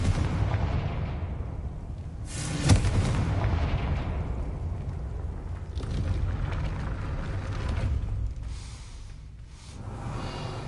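A Confringo fire-blast spell explodes in the Hogwarts Legacy video game, a sudden sharp burst standing out briefly above a steady low rumble of game ambience and music.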